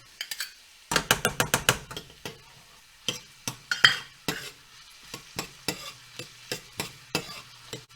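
Onion goes into a pan after celery and is stirred, giving a run of sharp, rhythmic scraping and tapping strokes of a utensil against the pan over a faint sizzle, close and clear.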